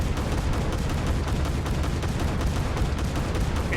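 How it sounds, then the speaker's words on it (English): Twin 40mm Bofors L60 automatic cannons on the bow and stern of a PT-15 torpedo boat fire in War Thunder naval combat, a dense, loud, continuous barrage of rapid booming shots. "2 automatic 40mm Bofors L60 cannons on the bow and stern,"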